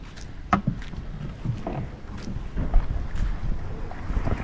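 Boat ride along the Udyavara backwater: a steady wash of water and engine rumble, with heavy wind buffeting the microphone and a few faint distant voices under it.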